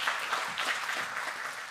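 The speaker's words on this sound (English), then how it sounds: "So let's give him an advance round of applause." Applause from a conference audience at a media summit, steady and dense clapping throughout with no voices over it.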